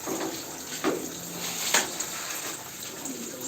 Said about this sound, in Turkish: Şimdi dört yerden akıyor görüyorsunuz.